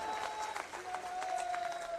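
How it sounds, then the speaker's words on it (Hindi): Crowd applause at an outdoor public meeting with a state minister, steady clapping filling the whole moment with a faint tonal whine running underneath. "अरे जोर से ताली बजाओ वरना नहीं होगा।"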